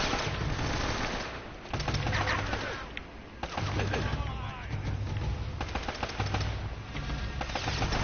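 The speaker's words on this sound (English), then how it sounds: "They really shoot through walls, those bastards." Enemy gunfire from Uncharted: Drake's Fortune, dense machine-gun bursts and rapid shots punching through walls, loud and continuous with brief gaps, over a low rumbling game backdrop.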